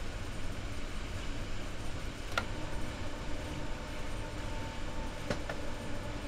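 Train running in the video game Train Sim World 4 on the S9 route between Wuppertal-Langerfeld and Wuppertal-Steinbeck, a steady low rumble with faint ticking and two brief sharp clicks.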